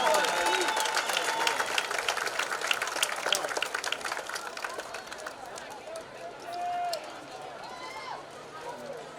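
Crowd applause at a night high school football game between Albertville and Guntersville rises in the stands for the seniors, dense clapping early that thins and fades over several seconds with voices mixed in.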